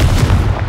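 A Confringo blasting spell explodes in Hogwarts Legacy, a single loud, close, rumbling blast that lasts under a second.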